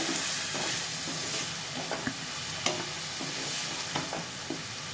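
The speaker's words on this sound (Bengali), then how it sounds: "ভালো করে এগুলো ভাজতে হবে।" Onions fry with salt in a pan for palak paneer, a steady close sizzle and hiss with intermittent scraping taps from a stirring spoon.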